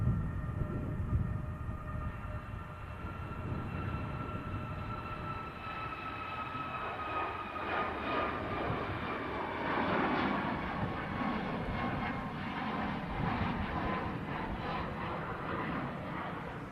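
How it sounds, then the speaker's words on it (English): Ryanair airliner on its takeoff roll, a steady distant roar of jet engines with a faint whine, building slightly in the middle and holding throughout, no talk. "Ryanair on the roll."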